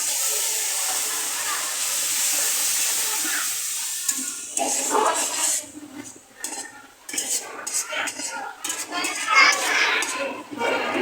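Spices (turmeric and chilli) frying in a pan on a home stove, with a little water added and stirred in; steady hissing sizzle with utensil scrapes, growing choppier and more uneven toward the end.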